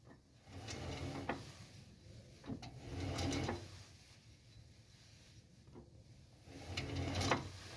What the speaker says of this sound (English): You hear that noise when it turns. It sounds like a bad bearing.